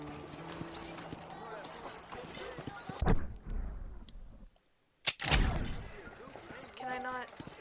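Horse hooves clip-clop in the video game Red Dead Redemption, a rhythmic patter mixed with game sounds, sharp gunshot-like bangs and a short gap of silence.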